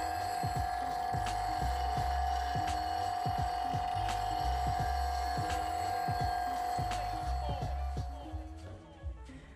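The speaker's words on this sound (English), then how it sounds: "You don't need to apply pressure or push the tool into the wheel when you're resharpening." A bowl gouge is being resharpened on a bench grinding wheel. A steady high-pitched whine rides over a rhythmic low throbbing as the tool is gently rotated back and forth, continuous and close before fading near the end.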